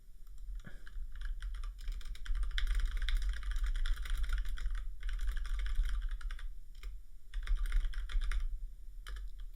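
Fast, continuous clatter of keys on a computer keyboard as a message is typed, close and steady with brief pauses, over a low background hum.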